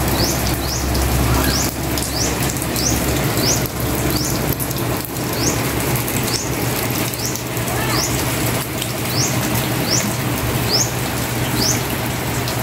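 Steady rain falls continuously in a rural Philippine home setting, a dense, even hiss throughout, with repeated short bird chirps rising above it and a low hum underneath.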